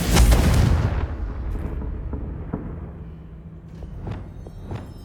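A Confringo blasting spell goes off in Hogwarts Legacy with one loud, close explosion at the start. Its rumble fades over several seconds, with a few faint pops after it.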